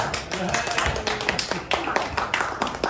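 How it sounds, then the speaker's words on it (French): A round of applause at a cultural networking event, dense hand clapping from a gathered group with sharp individual claps standing out, and voices talking over it. "on fait une main d'applaudissement"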